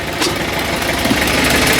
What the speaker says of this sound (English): We'll get the big old 110 TLB going.